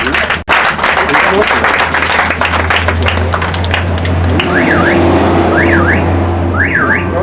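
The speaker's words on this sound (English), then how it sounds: "A round of applause for him." An audience applauds at a talk, a dense spread of clapping heard alongside a voice, while a warbling car-alarm-like tone rises and falls near the end.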